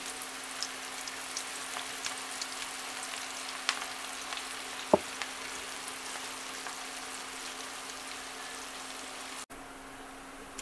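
Chopped onions for Egyptian koshari go into oil that is not very hot, giving a steady, fairly quiet frying sizzle, close and continuous, with one brief sharp tap midway and no talking.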